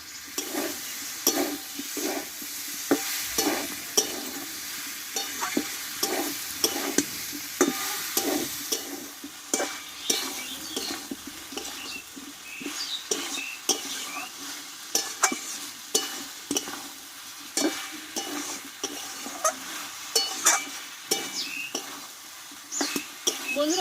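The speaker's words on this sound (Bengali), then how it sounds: "মশলার সঙ্গে দু মিনিট মতো ভালোভাবে আমি কষিয়ে নিয়েছি আলু পটলটা" Potatoes and pointed gourd sauté with spices in a pan, a steady close sizzle broken by repeated scraping and stirring strokes of a spatula throughout.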